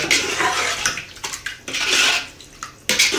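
Water being poured and stirred into chicken masala in a metal pot for Hyderabad dum biryani, splashing and sloshing with clattering scrapes of a spoon against the pot, loud and close.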